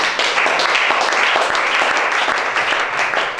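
A church congregation at a lively sermon breaks into sustained, dense applause, loud and close, with a few cheers mixed into the steady clapping.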